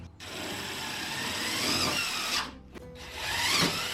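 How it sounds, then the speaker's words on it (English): A power drill drives self-tapping screws into a Sprinter van during a camper build, whirring in two bursts of loud, close whine and grinding separated by a short pause. "I'm gonna be using these self-tapping screws to hold this on."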